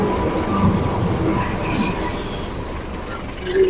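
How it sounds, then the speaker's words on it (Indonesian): A train rolls close past a busy market set right on the railway tracks in East Java, a loud steady rumble of wagons filling the whole stretch with voices talking underneath. "kita lihat ya, keretanya sudah datang"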